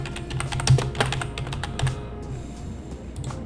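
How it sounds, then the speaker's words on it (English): Rapid typing on a computer keyboard during a heat-transfer vinyl craft project: a quick, uneven run of close clicking keystrokes, with a short pause before a final few taps and no speech. "So I'm just going to type that text."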